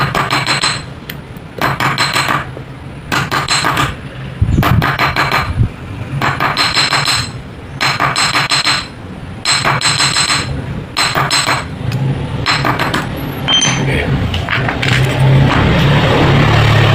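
Repeated hammer blows flattening the ends of a replacement bushing for a Cosmos donut-model electric fan, loud close strikes in bursts of rapid taps separated by short pauses, with no talk.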